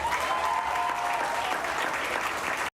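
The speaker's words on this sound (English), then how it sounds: "they did not clap loud enough for her daughter during the softball awards banquet" A crowd applauding at a high school softball awards banquet, steady clapping that holds for a few seconds and then cuts off abruptly.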